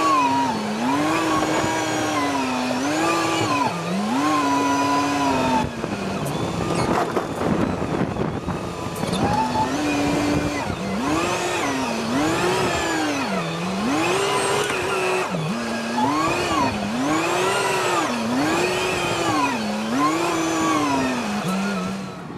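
A tractor loads dirt for a dirt racing track, its engine rising and falling in repeated loud revving surges as it scoops and lifts, with clanking machinery between the cycles, heard close up from the machine itself.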